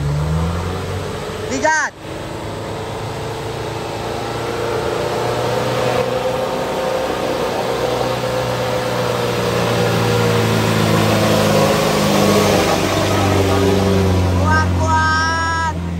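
Truck on Sinabang's Kedabuhan climb labors uphill, its engine droning low and steady for a long stretch, rising slightly in strain, with brief voices near the start and end.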